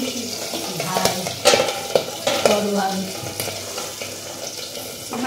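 Pabda fish fry in hot oil under a protective cover, giving a crackling sizzle with clattering knocks and spatula scrapes against the pan, fairly close and moderately loud.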